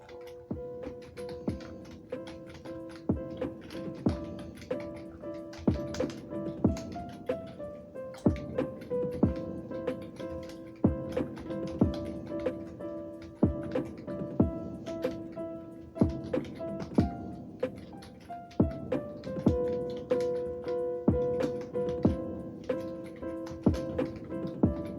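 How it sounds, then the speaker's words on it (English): Steady clicking of keys on a wireless keyboard during a typing test, a quick uneven stream of light taps that runs for the whole stretch, close and fairly quiet, with no voice over it. "So let's fire the typing test."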